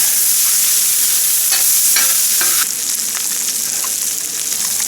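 Ingredients with pepper mixed in a hot pan, loud steady sizzling with scraping stir strokes, easing slightly partway through.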